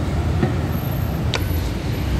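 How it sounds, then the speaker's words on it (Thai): Steady low rumble of a train running at full speed past a trackside slum between Urupong and Phaya Thai in Bangkok, with a continuous rattling hiss and faint squeals, no voices. "ตอนนี้รถไฟก็วิ่งเต็มอัตราแล้วนะครับ"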